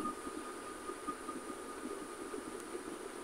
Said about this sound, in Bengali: এখান থেকে ট্রেন ঘুরে ওই ইঞ্জিনটা এখান থেকে ঘুরে